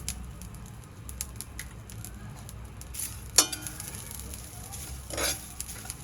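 Sesame seeds, coriander seeds, cumin, salt and asafoetida dry-roasting in a pan for peanut chutney, with soft crackling and a spoon stirring and scraping close by, including one sharp clink.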